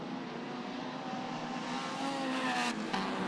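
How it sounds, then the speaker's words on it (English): Irish touring cars streaming past on a race circuit in a close pack, a steady loud engine roar that swells slightly as they come through, with no talk. "Here's the Irish touring cars and all the rest coming through."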